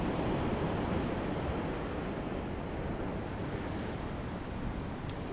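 Steady roar of ocean surf breaking on a foggy morning, a dense continuous wash of noise heard from near the shore with no clear individual wave crashes and no voices.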